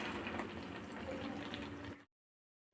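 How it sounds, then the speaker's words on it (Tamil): A thick ground spice paste pours steadily into a pot of buttermilk curry (mor kuzhambu) for about two seconds, then cuts off abruptly into silence. "இப்போ நம்ம அரைச்சி வச்சுருக்க பேஸ்ட்டை ஊற்றிக்கலாம்"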